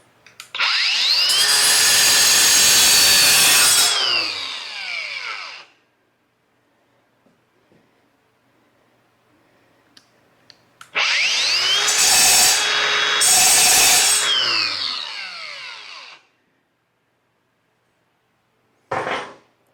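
Cheap Amazon cut-off wheel, a single red blade on a power tool, cutting in two long, loud, harsh grinding bursts separated by a quiet pause, with a short final burst at the end; no talking.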